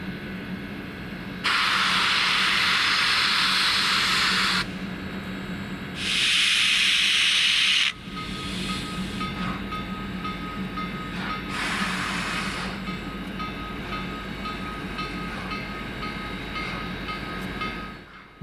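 Florida East Coast steam engine no. 148 passes near the Clewiston sugar mill among the cane fields. Several loud, close bursts of steam hiss rise over a steady rolling rumble that fades toward the end.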